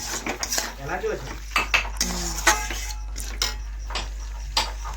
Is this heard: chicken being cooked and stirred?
yes